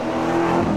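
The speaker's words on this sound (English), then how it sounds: "It's always good to hear a good gas-powered car." Gas-powered car engine revving at a coffee-and-cars meet, a steady loud mechanical roar held close for under a second with no talk over it.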